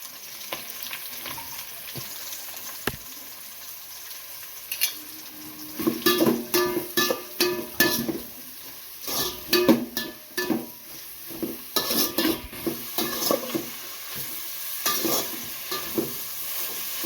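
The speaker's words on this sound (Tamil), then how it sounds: "ஆயில் நல்லா ஹீட் ஆன உடனே கறி மசாலா பட்டை ஆட் பண்ணிக்கலாம் வெங்காயம் ஆட் பண்ணிக்கலாம்" Curry masala, cinnamon and onion frying in hot oil for mutton biryani, a soft sizzle joined by bursts of spoon scraping and clinking against the pan, stirring in uneven clusters.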